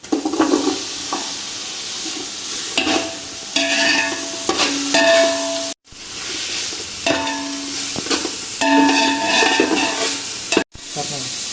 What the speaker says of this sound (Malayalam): ഇനി ആ പൈനാപ്പിളിൻ്റെയും ക്യാരറ്റിനെയും പച്ചപ്പൊന്ന് പോണ വരെ നമുക്ക് ഇളക്കി കൊടുക്കാം.